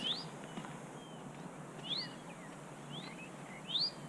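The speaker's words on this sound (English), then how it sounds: "all the birds, you can hear them all around us" High, thin bird calls chirp at intervals of about two seconds over steady background hiss, a few rising whistles repeating in open, quiet Florida pine scrub forest.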